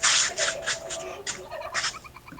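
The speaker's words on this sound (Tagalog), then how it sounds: "Oh, may manok din." Rapid, harsh bird calls from fowl at a home in Davao City, a burst of loud clucking or gobbling notes in quick succession, close and clear over faint background noise.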